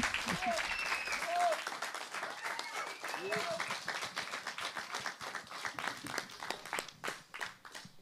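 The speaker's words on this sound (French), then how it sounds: "on peut applaudir Aube L." An audience at a small concert claps steadily, the dense patter of many hands continuing throughout at a moderate distance, with a few voices briefly audible early on.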